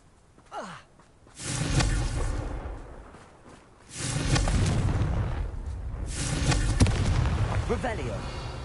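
Confringo spell blasts in Hogwarts Legacy: a whooshing cast followed by rumbling explosive bursts, repeated twice, with a breathy sigh-like sound near the start.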